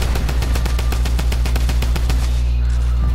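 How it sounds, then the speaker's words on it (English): Rapid automatic gunfire in a shooter video game, a loud, steady burst of evenly spaced shots filling the whole moment with no talk over it. "someone else is trying to shoot him"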